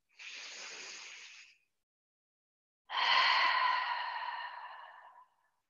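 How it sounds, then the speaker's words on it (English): Two long, airy breaths in a calm exercise class: a softer breath in, then after a pause a fuller, louder exhale that trails off slowly, close and alone without talk. "let's take a nice big exhaling breath"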